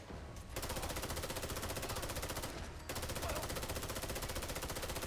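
Sustained automatic fire from a BPRE AR rifle in Fallout 4, rapid regular shots in two long bursts separated by a brief pause, loud and close.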